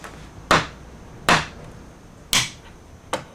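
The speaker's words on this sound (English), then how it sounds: "use a couple of little tacks for aligning the fretboard" Four sharp, separate hammer taps drive small alignment tacks into a guitar neck fretboard during a Stratocaster build, close and clear with short quiet gaps between strikes.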